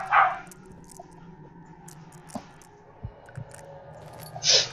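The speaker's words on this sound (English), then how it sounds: "The barking of the dogs outside." Dogs barking outdoors, faint and distant: a short bark or two at the start and again at the end over a low, steady background murmur, with no one talking.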